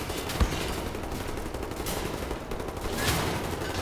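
Gunfire crackles in The New Order, a dense, steady spray of rapid shots with a couple of sharper single cracks standing out near the start and end, loud and continuous throughout.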